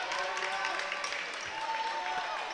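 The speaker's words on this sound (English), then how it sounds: "As Grant leaves the floor and gets a nice round of applause" Steady round of applause from a high school basketball crowd during a boys semi-final game, sustained clapping throughout at moderate distance, with an announcer's voice mixed in.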